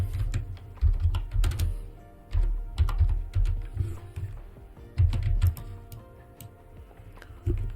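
Steady typing on a computer keyboard while working in Unreal Engine 5, close and clear, with quick clustered keystrokes and brief pauses between words.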